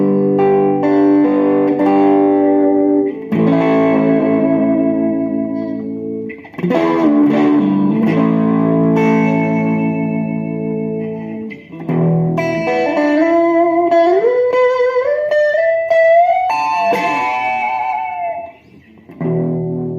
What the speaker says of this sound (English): This would be a Vox modeling amp, like an AC30, with a little bit of reverb.